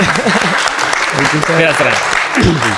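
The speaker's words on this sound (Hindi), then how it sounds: "इनकी इस मुस्कुराहट पे ताली होनी चाहिए यार।" Applause in a podcast studio, dense clapping heard close and loud beneath an ongoing conversation in Hindi-Urdu.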